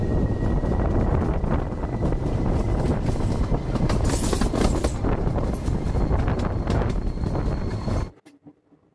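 A train bound for Puri rolls along with a steady loud rumble and wind buffeting, a rhythmic rail clatter running underneath, before the sound cuts off abruptly near the end.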